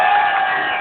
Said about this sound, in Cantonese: 孔令瑜，俾你掌聲！